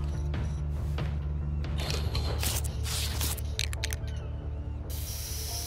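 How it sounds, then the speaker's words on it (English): Spray can hissing in the InFamous Second Son video game as a character spray paints, bursts of loud close aerosol spray with rattling and mechanical clicks between sprays, no talking. "This is a game where you are this dude spray painting stuff."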